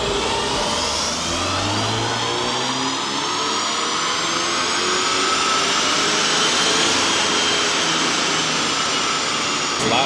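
A VW Golf MK8 GTI with a Unitronic Stage 1+ low-torque tune runs at full throttle on a dyno, its loud engine note sweeping steadily upward in pitch through one long, continuous pull.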